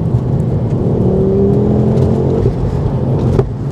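A Mountune MR375 Mk2 Ford Focus RS pulls hard in third gear on a dry road, its engine note rising steadily and loud from the cabin throughout, with no voices.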